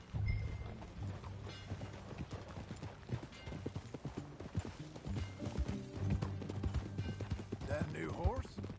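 Horse hooves clip-clop in an uneven, steady gait in Red Dead Redemption 2 on PS4, with faint mechanical rattles and a brief whinny near the end.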